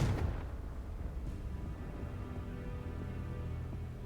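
Confringo blasting spell in Hogwarts Legacy, a single booming explosion at the start that fades into a low rumbling tail and lingering ambience.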